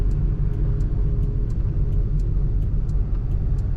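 A 1987 Chevrolet Silverado K10 truck on the move puts out a steady, deep exhaust rumble from start to finish, loud and continuous, with faint light ticks above the drone.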